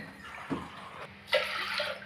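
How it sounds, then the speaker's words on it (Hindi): Water poured from a glass into a pot of uncooked rice for fried rice, two short splashing pours, the second louder and longer, fairly quiet overall. "इससे 2 ग्लास वाटर डालेंगे। 1 ग्लास राइस और 2 ग्लास वाटर।"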